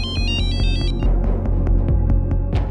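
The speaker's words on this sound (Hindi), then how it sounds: "उस रात जब मैं सो रहा था मेरे फोन की घंटी बजी थी" A mobile phone ringtone plays loudly and close, a rapid repeating electronic melody of pulsing beeps over a throbbing low beat, with no one talking.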